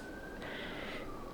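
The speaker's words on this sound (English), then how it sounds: "Oh, sirens." A faint wailing siren drifts along a wintry New York City street, a single rising and falling tone heard from a distance over steady traffic hum.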